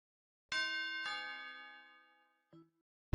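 A two-note doorbell chime, a bright ding followed by a lower dong, both ringing out and slowly fading, then a brief short tone.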